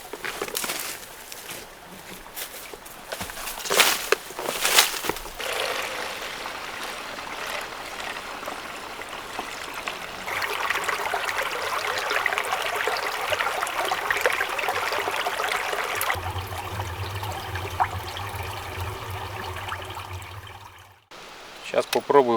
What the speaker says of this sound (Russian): Вышел к речке.